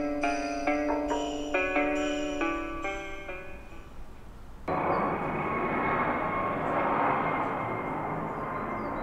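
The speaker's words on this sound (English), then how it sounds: "There's a helicopter. A chopper." A helicopter is heard after a short musical outro, with a steady, broad rotor and engine roar that comes in suddenly and holds at a moderate distance for several seconds.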